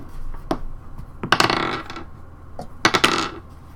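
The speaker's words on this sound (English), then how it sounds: "Those are real dice" Real dice rolled for a D100 percentile roll in a tabletop role-play session, clattering on a table in two quick bursts of tumbling clicks, close and fairly loud.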